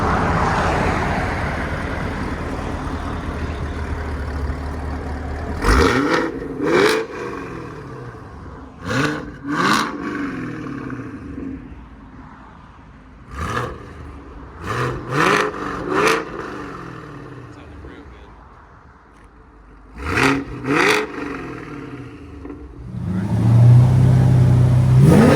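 A straight-piped Chevy Camaro ZL1 V8 idles, then blips its throttle in sharp, loud revs, several quick pairs spaced apart, each climbing and falling back to a rough idle, with passing traffic at the end.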